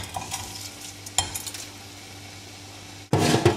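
Soaked rice goes into a pan with onions and spices, giving a soft sizzle with scattered scraping and stirring clinks, then a louder rattling clatter near the end.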